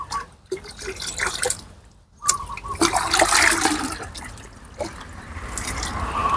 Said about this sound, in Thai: เพื่อนๆไปนำถังสีมานะ แล้วก็เติมน้ำตักครึ่งถังแบบนี้นะครับ